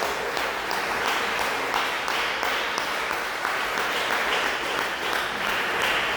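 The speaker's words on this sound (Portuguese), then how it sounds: "dê uma salva de palmas para Jesus com alegria" A church congregation claps together in a full, continuous wash of applause, loud and even throughout with no voices standing out.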